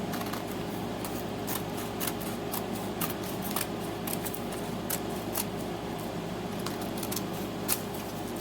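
Scissors trimming paper for a handmade witch's house craft, a steady run of close snipping cuts over a constant hum of background noise, with no talk.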